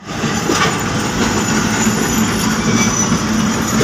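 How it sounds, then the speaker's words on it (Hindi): A passenger train pulls into a station in Satna, India, a loud, close rumble of rolling wagons with squealing wheels and a steady clatter over the rails. "ये अपनी ट्रेन तो आ गई है।"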